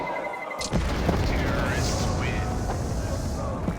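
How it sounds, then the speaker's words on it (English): A bomb goes off in a Counter-Strike match at a grand final at IEM Cologne 2024: a sudden deep boom swells into a long, loud roaring rumble while casters keep talking over it. "Bomb about to go off."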